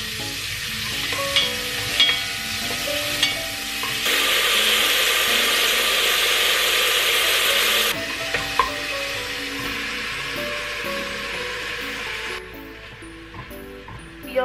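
Japchae ingredients sizzle and are stirred in a hot pan, a loud steady frying hiss with scraping and clacking of a utensil, swelling louder midway then fading near the end.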